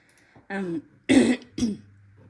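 A person clears their throat, then coughs twice in quick succession, close and fairly loud, with quiet pauses between.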